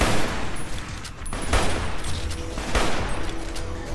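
Rifle fire in Fallout: New Vegas during a fight with Deathclaws: a few loud shots spaced about a second apart over a dense, rumbling background of battle noise, with no voices.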